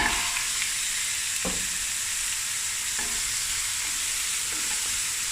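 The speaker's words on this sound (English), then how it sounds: "Now we're just gonna fry this until everything is nice and brown." Onions and lamb bones frying in a pot for Cape Malay cabbage frikkadel, a steady loud sizzle and hiss with a few stirring scrapes, close and continuous with no talking.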